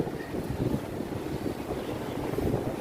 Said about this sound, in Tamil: காற்று அடிக்குது, உங்களுக்கே கேட்கும் போது சவுண்டு கேட்கும்